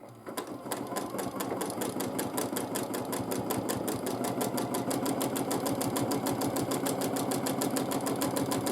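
A sewing machine doing free motion quilting runs in a fast, even stitching rhythm that starts after a brief pause and holds steady, close and alone.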